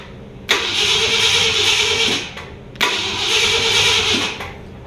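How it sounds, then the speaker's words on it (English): A 1966 Ford Galaxie 500 convertible engine under restoration cranks over on a remote starter switch in two loud, sustained bursts of steady whirring starter churn, each about two seconds long, with a short pause between them. "I just want to see if it's going to crank over with the remote starter switch"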